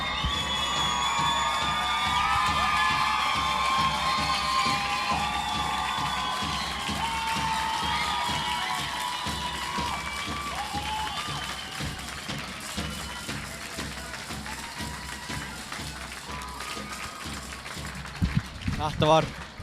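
Home crowd at a Fjölnir women's handball playoff game, Hertz league 2024, cheering and celebrating the win in a dense, sustained roar with shouts and clapping, under a commentator talking throughout.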